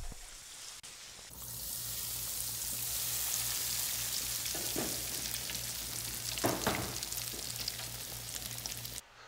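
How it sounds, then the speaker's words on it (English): Battered fish deep-frying in a fryer of hot oil, a steady dense sizzle and bubbling that swells in after a quiet start and keeps going alone at moderate loudness, with a low hum underneath. "and then into the fryer"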